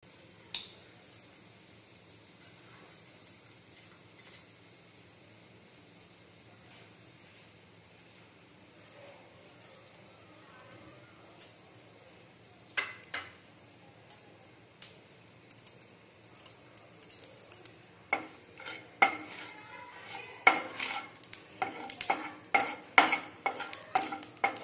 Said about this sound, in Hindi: जीरा हमारा चटकने लगा है